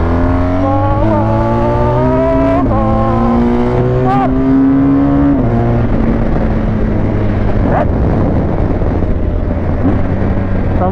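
A loud Honda XRE 2021 motorcycle engine revs up and down repeatedly, pitch rising and falling in surges, close and continuous, with rumbling noise throughout.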